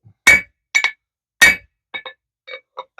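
A hammer strikes a steel bar on an anvil to flatten it for a decorative hanging-basket bracket, giving about eight sharp, ringing metallic clinks, some in quick pairs and loud and close, with silence between blows.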